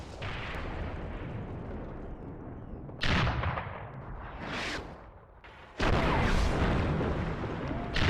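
Gun and artillery fire at a tank turret on a WWII tactical battlefield booms out in a few heavy, distant-sounding blasts with rumbling tails between stretches of steady battle noise.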